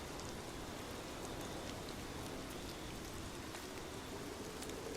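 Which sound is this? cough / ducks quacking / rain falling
rain falling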